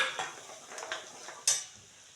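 Spice powders and onion-garlic masala frying in a pan for a dhaba-style dried fish fry, soft sizzle with a few scraping stirs and a sharper clink of utensil on the pan.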